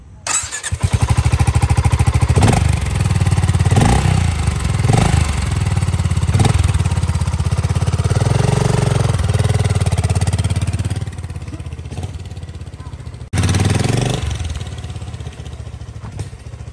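A BSA Gold Star 650 motorcycle with a tuned exhaust revs loudly and close, its engine rising in repeated throttle blips over a steady idle before dropping off and picking up again near the end.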